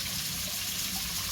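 Soft, steady trickle of water running over stones beside a swimming pool on Corfu, Greece, heard faintly and continuously with no voices.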